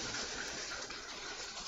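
Soft, steady hiss of thunderstorm rain falling in the video game Halitol, faint and even throughout, with no thunder.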